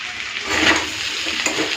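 Bitter gourd and hilsa fish head curry is stirred in a pan, with a brief scraping, sizzling mix that swells midway, close and fairly loud.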